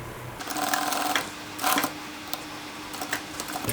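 A sewing machine stitches across the loops at a dress neckline, on a heart-shaped open-back dress, running in quick mechanical bursts with short pauses between them, close and alone.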